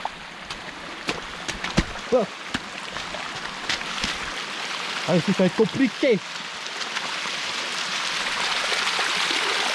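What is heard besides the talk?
small waterfall on Réunion Island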